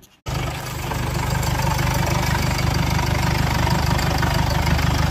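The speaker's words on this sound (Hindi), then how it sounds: "कार को स्टार्ट करते हैं।" A Mercedes W166 diesel engine fires up after an oil service and engine mount replacement, catching abruptly after a brief crank and settling into a loud, steady idle close by, without voices.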